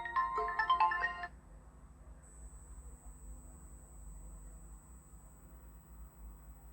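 A phone ringtone plays a short melodic phrase for about a second at the start of an incoming call, fairly loud and close, then cuts off to quiet room hiss.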